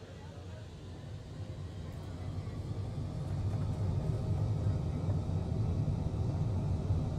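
Airliner engines spooling up for takeoff in Microsoft Flight Simulator 2020, a low rumble that builds steadily in loudness and holds as a broad roar.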